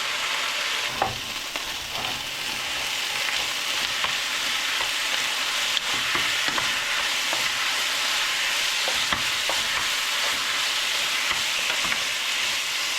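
Meat frying and being stirred in a pot for green banana sour soup, a steady close sizzle with scattered sharp crackles and spoon scrapes throughout, no talking.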